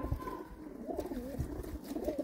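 Several pigeons at a Jammu pigeon sale coo in overlapping, wavering calls, fairly close and continuous over a low background murmur.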